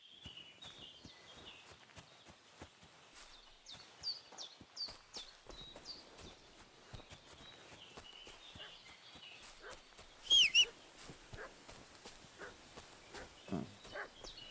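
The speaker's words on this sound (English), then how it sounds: "What's that dog making such a fuss about?" A video game scene with soft repeated footsteps and clicks, joined by a short burst of fussing dog barks partway through, then quieter movement sounds.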